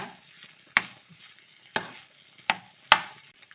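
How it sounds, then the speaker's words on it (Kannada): Temple-style tamarind rice (pulihora) is stirred and fried in a pan. Four sharp spatula scrapes land about a second apart over a faint, low sizzle, and no voices are heard. "ಒಂದೆರಡು ನಿಮಿಷ ಚೆನ್ನಾಗಿ ಮಿಕ್ಸ್ ಮಾಡಿಬಿಟ್ಟು ಇದರಲ್ಲೇ ಫ್ರೈ ಮಾಡ್ಕೊಳ್ಳೋಣ"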